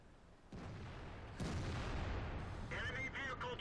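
A tank cannon fires in World of Tanks, a heavy booming blast that jumps out over a constant rumbling battlefield background, with a rattling metallic echo trailing after it.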